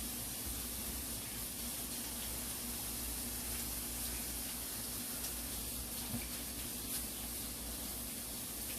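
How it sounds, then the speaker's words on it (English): Tap water runs steadily into a kitchen sink for hand washing, a continuous even hiss of spray and splashing that holds at one level throughout, close by and with no talking. "Let me wash my hands real quick."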